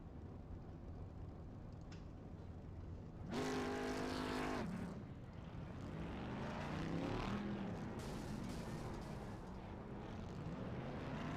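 A loud race car engine roars past in the iRacing video game, with rising and falling revs and a sustained high whine, followed by continuing engine drone in the distance, during GT1/GTE racing at Interlagos.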